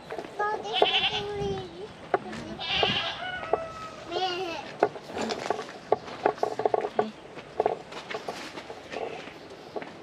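A goat bleats while eating leaves in a Philippine jungle. A few short wavering bleats stand out near and clear, with light rustling and patter between them and voices nearby.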